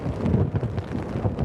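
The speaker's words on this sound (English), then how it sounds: "I could hear rain coming down outside" Rain falls in a video game, a dense, rumbling downpour with low thunder-like swells that stays steady and fairly loud, without speech.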